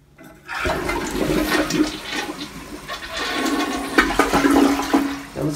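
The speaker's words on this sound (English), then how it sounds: "That was a pretty good flush." A toilet that was being unclogged flushes loudly and up close: a rushing surge of water swirls and drains for several seconds, with gurgling near the end.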